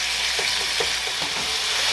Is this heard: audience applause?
no